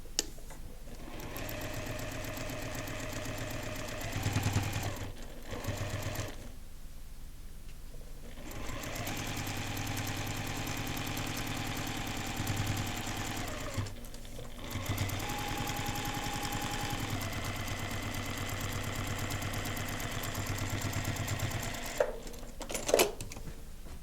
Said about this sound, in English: They line up so I can go to my machine and stitch.